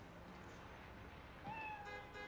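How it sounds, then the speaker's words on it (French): A cat meows in the video game Spider-Man Miles Morales, a faint, brief rising cry heard once or twice over a low city ambience with distant traffic hum. "Tout mignon, petit chat."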